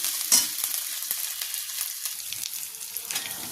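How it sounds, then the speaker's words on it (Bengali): Fennel paste stirred into vegetables frying in a pan for a Bengali-style vegetarian dal with jackfruit seeds and pumpkin greens: a steady bright sizzle with soft scraping strokes of a spoon, close and continuous, with no voices. "মৌরি বাটাটা দিয়েও আমি 1-2 মিনিট নাড়াচাড়া করব"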